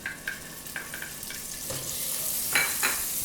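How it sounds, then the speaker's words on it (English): A tablespoon of butter sizzles as it melts in a pan for a North Indian vegetarian dish, a steady frying hiss with a few faint stirring scrapes and no talk. "Adding in a tablespoon of butter."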